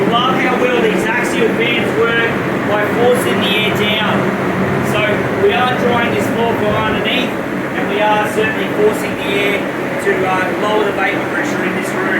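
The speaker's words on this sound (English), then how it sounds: "Traditional drying that people are used to, dehumidifiers and fans." Dehumidifiers and drying fans run together in a room during structural drying, making a loud continuous whirring hum with a steady mechanical drone, while someone talks over the machinery throughout.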